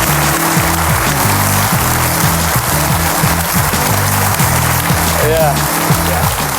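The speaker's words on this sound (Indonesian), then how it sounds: "Ini saatnya kita berikan aplaus yang meriah untuk Edi Kristianto." A studio audience gives sustained applause for Dr. Edi Kristianto, a steady wash of clapping that runs the whole time beneath music and a speaking voice.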